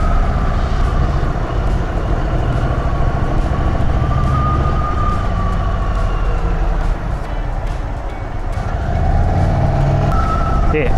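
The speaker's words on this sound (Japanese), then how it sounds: "サンダーストロークのエンジンね" An Indian Chief motorcycle with a Thunder Stroke engine is ridden at about 50 km/h over hilly roads. Its steady engine drone sits close and runs alongside continuous wind and road roar for the whole stretch.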